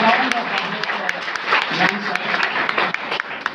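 An audience at a talk on the Constitution gives a round of applause, clapping steadily over the full stretch with a few sharper individual claps standing out, while voices murmur underneath.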